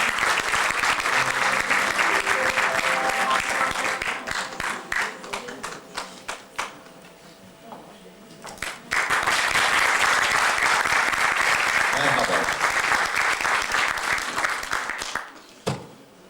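An audience at a Nazım Hikmet memorial evening of poetry and music applauds to welcome a poet-performer back onstage, with sustained dense clapping that briefly thins midway and then swells again before fading out.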